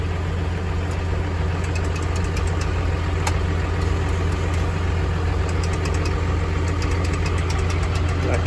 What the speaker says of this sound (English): So got the pump on.